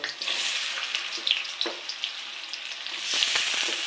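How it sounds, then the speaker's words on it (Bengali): Boiled potatoes frying in hot oil with black cumin seeds, a bright steady sizzle with scattered crackles and a brief stirring scrape, louder again toward the end. "এরপর আলুগুলো সিদ্ধ করে রেখেছি একটু, ওইগুলো একটু ভেজে নেব"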